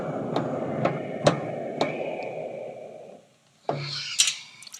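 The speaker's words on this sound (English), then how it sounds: "I blow air through the tuba without making a sound, and I hit the valves" Tuba played with breath only and no tone, a soft airy rush of blown air broken by several sharp metallic clicks of valves being pressed, then a brief pause and a last puff with clicks, close and fairly quiet.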